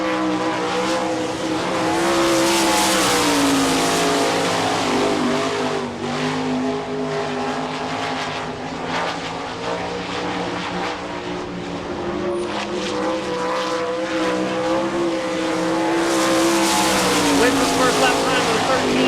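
A World of Outlaws sprint car runs a qualifying lap at a dirt track in Rossburg, Ohio, its engine a loud, sustained roar that rises and falls around the track while an announcer talks over it.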